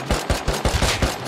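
MP5 submachine gun fire in a survival shooter game, several rapid bursts of automatic shots close and loud with short gaps between them, no voices.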